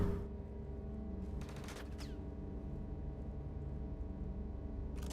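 Gunfire in the space game Star Citizen comes as two short rattling bursts over a steady low background hum, the first lasting about half a second and the second a brief crack near the end.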